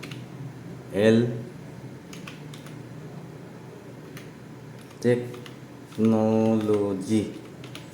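Fingers tap out a short channel name on a computer keyboard, producing faint, quick keystroke clicks beneath a man's intermittent speech.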